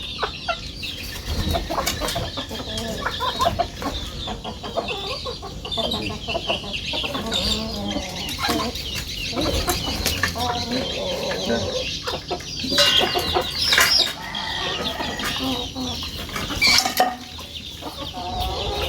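Junglefowl (ayam hutan) breeding stock cluck and call in a backyard pen, a busy, close chorus of repeated clucks and sharper cries over constant rustling and scratching, with no talking.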